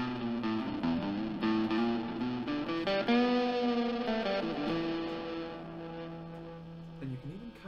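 A sustained electric guitar chord through an EHX Lumberjack Logarithmic Overdriver with a gritty, distorted edge, layered with a cleaner shimmering reverb tone underneath, ringing out and fading slowly.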